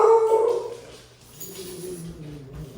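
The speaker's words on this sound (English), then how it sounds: "The dog heard you." A dog gives a short high whimper followed by softer low grumbling yips, close and brief, in a home kitchen.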